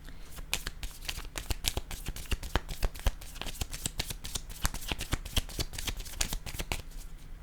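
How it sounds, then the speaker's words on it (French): Tarot cards are shuffled and laid down by hand in a quiet room, giving a rapid run of crisp riffling snaps and soft slaps that continue close up for several seconds without speech. "Je vais déposer une carte ici."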